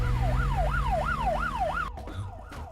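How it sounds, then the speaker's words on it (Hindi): An ambulance siren wails in a fast, regular up-and-down sweep, loud and close, then cuts off abruptly into a few faint clicks and thuds. "ये तो पुलिस का सायरन है।"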